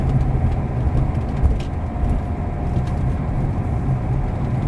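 A Lamborghini LP640 creeps slowly around a racetrack, its engine giving a loud, steady low rumble that stays close and even throughout, without speech.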